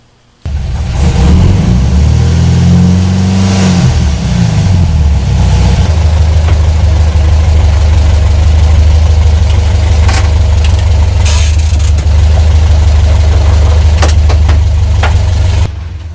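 An old, unreliable bus engine revs up and down in a couple of rising surges, then settles into a loud, steady, low idle rumble that continues close by with no talking.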